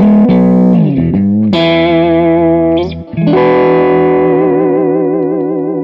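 Sustained electric guitar chords from the middle and bridge pickups together, with a warm, quacky tone, shimmering with chorus-like effects, loud and close, briefly dipping before ringing out again.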